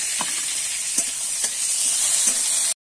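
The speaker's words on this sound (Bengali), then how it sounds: "এবারে ওই তেলেতেই কিন্তু আমি নুন হলুদ মাখানো চিংড়ি মাছটা ভেজে নেব।" Prawns rubbed with salt and turmeric frying in hot oil in a pan, giving a close, steady sizzle with a few soft pops and stirring knocks before it cuts off abruptly.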